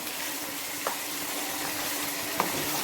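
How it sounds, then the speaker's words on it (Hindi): Beef pieces with bone and fat frying in ghee, giving a steady, even hiss of sizzling oil with a couple of faint clicks, close and continuous. "ये मैं अभी इसको घी में फ्राई कर रही हूँ"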